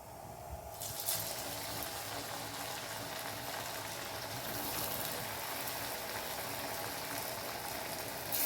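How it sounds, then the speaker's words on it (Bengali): Sweet potato and chhana jalebi dropped into hot oil, a soft steady bubbling sizzle that begins abruptly and continues evenly at moderate distance. "আমি ভাজতে শুরু করে দিচ্ছি"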